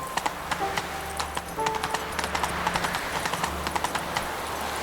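Roach the horse gallops in the video game The Witcher 3, hooves clip-clopping in a quick, steady rhythm that runs throughout, moderately loud over a low ambient drone.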